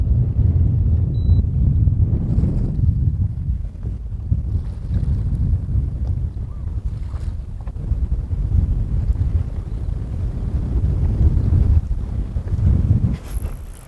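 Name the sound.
wind blowing over a lake while fishing from a boat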